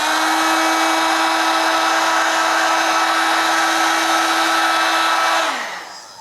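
A flash dryer curing screen-print ink on a foam trucker cap gives off a loud, steady whirring hum for about five seconds, then winds down and fades out.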